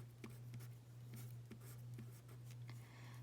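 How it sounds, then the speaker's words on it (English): Pen or marker writing on a board during a math lesson on radical equations, a series of soft irregular strokes and taps over a steady low electrical hum. "I'll just write it here on the side."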